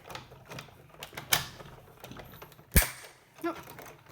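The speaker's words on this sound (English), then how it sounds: "That is just the actual cutting into the plastic there, which is always what happens with your Big Shot." Big Shot die-cutting machine pressing a plate through plastic, giving a few sharp, separate cracks and snaps amid quieter creaks and clicks, close by, with no talk.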